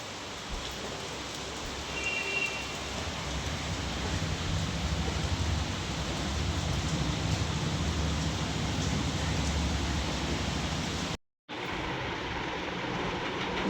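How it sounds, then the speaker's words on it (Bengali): Heavy rain pours steadily at close range in an indoor home setting, a dense continuous hiss with no talk, briefly cutting to silence near the end before the downpour resumes. "এই বৃষ্টিটা আবার জোরসে নামলো গো।"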